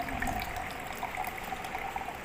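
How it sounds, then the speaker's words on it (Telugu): Water pouring steadily into a glass or jug while chia juice with lemon is made; a continuous close gushing flow with no pauses and no talk. "వాటర్ యాడ్ చేసుకోండి."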